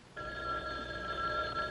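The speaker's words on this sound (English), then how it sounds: "Phone. Where's the phone?" An old telephone bell rings steadily with a bright, continuous tone, heard clearly over a faint low background rumble.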